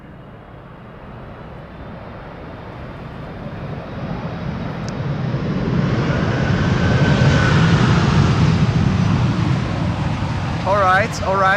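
Airliner thrust reversers deploying on landing at Schiphol: a broad jet roar that swells from moderate to loud over several seconds and then holds, with a brief whine near the end.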